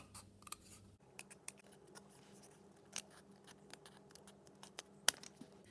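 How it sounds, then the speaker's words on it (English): Scissors snip through paper or card along marked lines to shape a rhinoceros body part for a toilet-roll craft, giving a string of close, quiet cuts in an irregular rhythm over faint background hum. "Now we can take our scissors, snip up to the mark and then cut around following the marks that you made."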